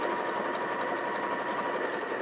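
A sewing machine runs steadily, stitching quilt fabric along a bias edge for a quilt block. It is a close, continuous, even motor hum with fast needle rhythm and no talk.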